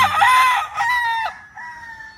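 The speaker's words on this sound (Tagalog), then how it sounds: "Manok ni Princess Althea." A rooster crows loudly and close by, one full drawn-out call that trails off, with faint clucking behind it.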